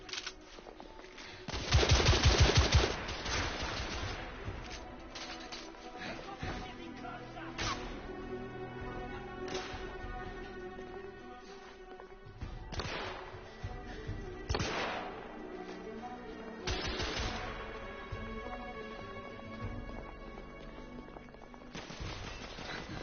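Rapid video game gunfire on PS4, with a loud close burst early on, then repeated shots and cracks at varied distances over constant background game noise.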